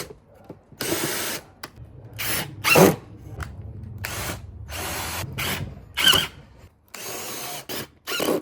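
A power drill drives screws into wood pieces while building a behind-couch table with a built-in bookshelf, loud repeated whirring bursts of roughly a second each, separated by short pauses, with ratcheting clicks, close and alone.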